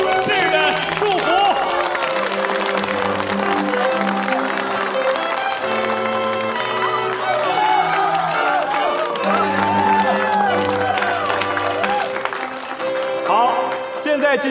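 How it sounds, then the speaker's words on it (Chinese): Wedding guests applaud the bride and groom as loud music plays, clapping and crowd noise mixed under a strong musical backing throughout. "让我们用最热烈的掌声向两位新人送上最诚挚的祝福"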